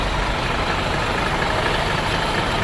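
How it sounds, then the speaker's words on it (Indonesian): A diesel bus engine on a Hino RM chassis idles steadily with a low, even rumble and constant mechanical hum, close up and uninterrupted. "Ini suara mesin bus yang kita naiki."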